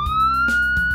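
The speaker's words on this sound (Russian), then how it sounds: "полицейская машина" A toy police car's siren sounds close and loud in a steady, slowly rising electronic wail, with soft clicks and knocks underneath.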